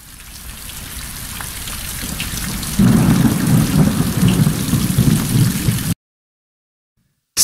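Rain and thunder sound effect: steady, dense rainfall hiss with a deep rolling rumble that swells partway through, fairly loud, then stops abruptly into silence.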